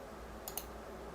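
A computer mouse gives two quick, crisp clicks close together, used while drafting in ZWCAD software. The clicks are quiet and close against a faint background hum in an otherwise still room.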